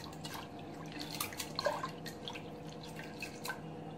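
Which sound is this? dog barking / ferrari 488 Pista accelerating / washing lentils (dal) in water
washing lentils (dal) in water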